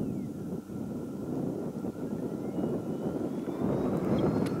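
An X-Fly Eagle twin 40mm EDF RC flying wing running on a 4S battery passes overhead, a steady rushing whine of ducted fans with faint pitch sweeps, moderately distant under outdoor wind noise.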